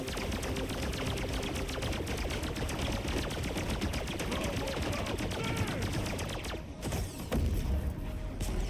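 Rapid automatic gunfire in the flight combat game Wild Blue Skies, a dense continuous rattle of shots filling the whole stretch with a brief dip near the end, loud and close, with a voice faintly talking underneath.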